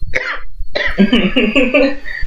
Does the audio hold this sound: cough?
yes